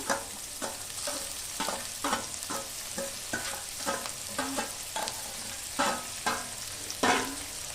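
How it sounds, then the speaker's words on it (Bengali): Chopped onion and garlic fry in hot oil while a spoon stirs them in a pan, giving a steady sizzle broken by regular scraping strokes, close and moderate in level, with no talk. "এবার আমি দিয়ে দেবো পেঁয়াজ কুচি।"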